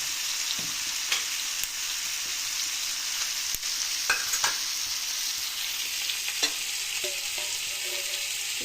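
Oil sizzling in a small pan while a tempering is made for tomato and ripe chili chutney, a steady close hiss with a few faint clicks and spoon taps scattered through, no voices.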